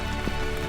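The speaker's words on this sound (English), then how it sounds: "You can hear the rain in the background." Steady rain falls in Java, a close, even wash of drops drumming on surfaces for a short stretch, with a brief thud partway through and no speech.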